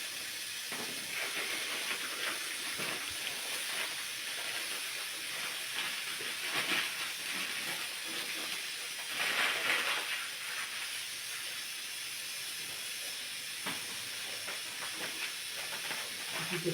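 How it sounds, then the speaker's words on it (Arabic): Couscous steaming over a pot, a steady hiss of steam running continuously at moderate level, with faint kitchen clatter and occasional surges in the hissing. "نطيب شويه ونفورو الكسكسي"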